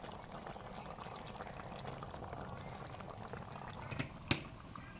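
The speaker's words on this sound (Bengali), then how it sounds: "মাছের ঝোল ফুটে উঠেছে" A Bengali fish curry made with mustard bubbles in a pot, a soft continuous simmer heard close up, with a brief clink near the end.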